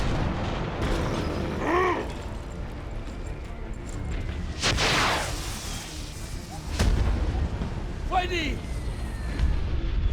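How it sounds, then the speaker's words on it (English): Cannon artillery fire rumbles across a World War I battlefield in Valiant Hearts, with deep booms and bursts repeating every few seconds, loud and fairly near, mixed with game sound effects. "Cannons are that way."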